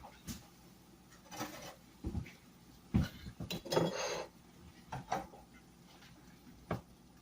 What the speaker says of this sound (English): So I'm actually going to take these scrambled eggs and put it on a bed of toast.